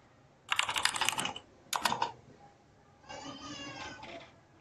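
Quick bursts of typing on a computer keyboard during a live coding session, with two rapid clusters of clacks close up followed by a softer stretch of keystrokes, and no talking.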